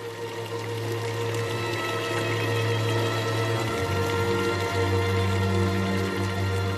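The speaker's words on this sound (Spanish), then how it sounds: "que el agua esté fluyendo por fuentes de distinto tamaño" Water flows and splashes through the fountains of the Patio de los Leones in the Alhambra, a steady close burble and trickle that continues without pause, alone with no voices.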